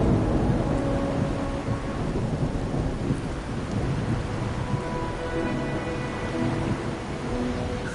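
Rain and thunder in the video game Wuthering Waves: a steady hiss of rainfall with low rumbling thunder rolling underneath, continuous and fairly loud throughout, with no voices.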